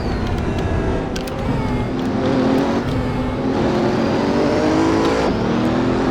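A Bugatti Chiron in the Assetto Corsa VR racing game accelerates hard toward top speed, giving a loud, continuous engine roar with shifting rising tones and brief gear-change dips over about six seconds. No one speaks over it.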